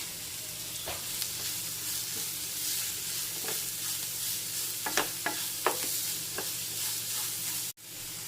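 Chopped large onion frying in a pan for a masala curry, a steady close sizzle broken by several sharp stirring scrapes and clinks, with a brief dropout near the end.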